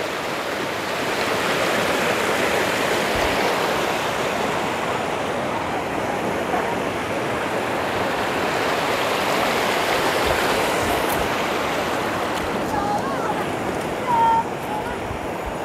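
A rocky mountain stream at Hòn Bà in Khánh Hòa rushes continuously with a broad, even hiss of flowing water, with faint voices in the background.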